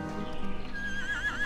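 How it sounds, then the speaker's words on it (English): A horse in the video game Torchlight lets out a single loud, drawn-out whinny, with faint hoof clopping underneath and no talking. "It looks like an ordinary horse."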